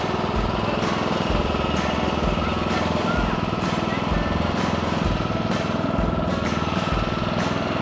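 An engine-powered wood splitter runs steadily, its loud chugging engine drone continuous and close, with the load shifting slightly as wood is split.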